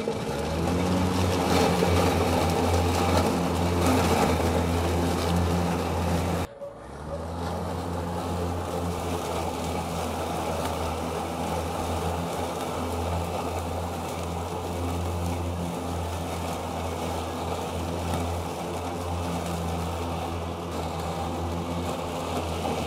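An EGO Z6 ZT5201E-L battery zero-turn mower has its motors switched on; a steady electric hum and whine runs throughout, with a brief dip and click as the motors engage, then settles into a continuous running drone.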